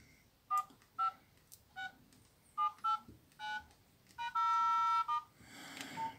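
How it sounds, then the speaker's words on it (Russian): Keypad tones from a Nokia C2-03 mobile phone as its keys are pressed one after another, short clear beeps in an uneven sequence with one longer held tone, close and alone. "Ну что, проверяем все клавиши."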